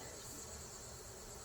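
Honeybees swarming around an opened backyard hive during a hive check, giving a steady, close, dense insect buzz with no pauses.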